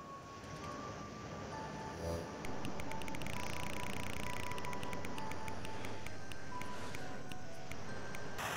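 The prize wheel spinning in the Sega Genesis Wheel of Fortune game, a fast, steady electronic clicking and ticking that runs for several seconds at moderate loudness, with chiptune tones underneath.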